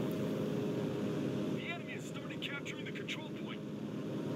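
Propeller aircraft flying in the WWII shooter Enlisted, a steady broad engine drone filling the whole clip with some brief higher game effects over it, no talk.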